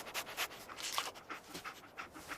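Dogmeat, the dog from the video game Fallout 4, pants softly in quick, rhythmic breaths. The panting is faint and close, with no talk.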